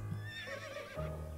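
A horse in the video game To The Moon gives a whinnying neigh, a single rising and falling call followed by a low snort, close and clear.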